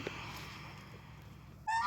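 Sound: domestic ducks on a farm

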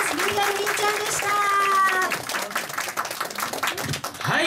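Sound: audience applause

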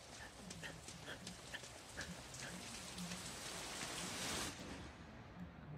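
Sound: rain

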